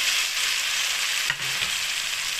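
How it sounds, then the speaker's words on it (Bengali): Fried potatoes and okra tipped into a spice paste sizzling in oil, giving a steady, close hiss of frying with a brief soft thump of the vegetables landing midway. "এবার আমি দিয়ে দেব এই ভেজে রাখা আলু আর ভেন্ডি"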